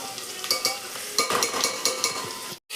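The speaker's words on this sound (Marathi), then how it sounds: "हा मसाला पण चांगला परतून घेते आणि थोडं थोडं ह्याच्यावर पाणी टाकते" Masala of salt and turmeric sizzles in a pan with fried onion and tomato for a prawn curry, while a spoon scrapes and stirs in quick, rhythmic strokes over the steady frying hiss.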